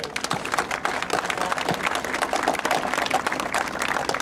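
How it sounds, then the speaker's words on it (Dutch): Dense, steady applause from an audience at the Dutch International Fly Fair in 2010, many hands clapping together at close range with no break for the whole stretch. "Applaus voor Jacques"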